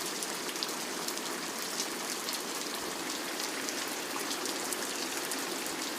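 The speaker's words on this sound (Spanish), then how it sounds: "La lluvia empapa de nuevo las calles de Lipnitsa Murowana." Steady rain soaks the streets of Lipnica Murowana, Poland, a dense even hiss of drops spattering on hard surfaces, continuous and close with no talk.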